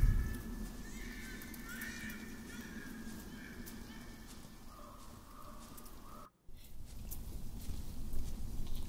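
A horse in The Pillars of the Earth video game gives a faint whinny early on, with light ambient game sounds and a brief silent gap afterward.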